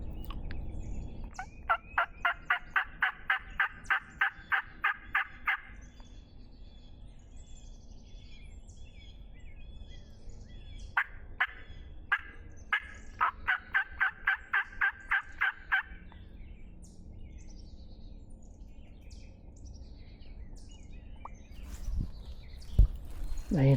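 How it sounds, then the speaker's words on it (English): Wild turkeys gobble in the distance during a spring hunt in West Virginia, with two clear bursts of rapid rattling gobbles separated by quieter woodland ambience, faint and far off, with no talking. "They gobbled right there somewhere."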